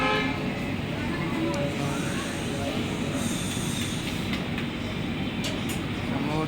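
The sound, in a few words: LTT Shalimar Express train arriving at Chakradharpur station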